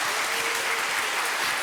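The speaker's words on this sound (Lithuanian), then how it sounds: "Jums ploja visa studija." A television lottery show studio audience claps in an even, continuous wash of applause for a prize winner, steady and fairly loud throughout with no pauses.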